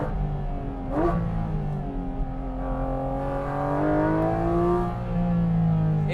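Porsche GT4 RS or 992 GT3 sports car on an Italian mountain pass, engine pulling hard with a sharp gear change early on, then a steady rising howl through the next gear, loud and close.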